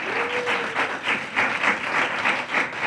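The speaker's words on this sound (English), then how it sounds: "Please applaud them." Audience applause for the speakers at a South American panel event on information as a public good: a steady wash of many hands clapping that continues throughout, with a brief faint tone near the start.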